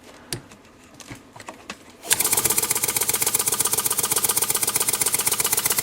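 A Harbor Freight paint shaker mounted on a workbench and run on compressed air starts after a few faint clicks, then breaks into a loud, fast, even rattling hammer that keeps going steadily to the end.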